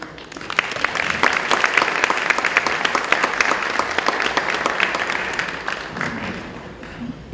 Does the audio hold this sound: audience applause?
yes